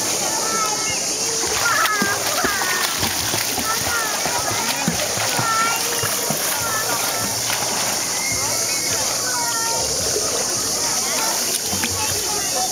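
Sea water splashing high against a rocky shore in Antalya, a constant wash of spray and surf with children and adults talking over it.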